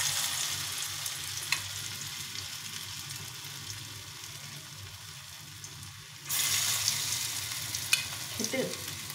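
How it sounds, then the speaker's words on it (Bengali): Mixed vegetable pakoras, pressed flat, fry in hot oil with a steady close hiss that eases, then swells louder as more batter goes in, with a few small clinks. "একদম চেপে চেপে বড়াগুলো ভেজে নেব"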